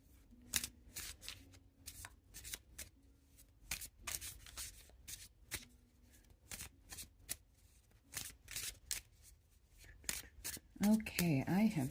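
Oracle cards shuffled by hand in repeated quick riffling bursts, close and crisp, with a soft voice speaking between them and a brief rustle at the end.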